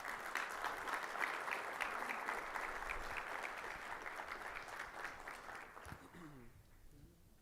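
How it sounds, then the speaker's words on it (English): An audience at a mortgage-industry event applauds steadily as a singer is welcomed up to perform the anthem, the clapping fading away toward the end as a voice begins to speak. "A round of applause for him, please"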